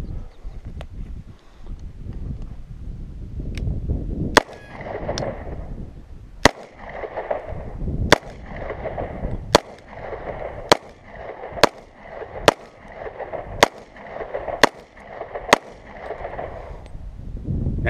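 Gunfire in the Call of Duty No Russian mission, a string of sharp single shots spaced a second or two apart over a low rumbling game background.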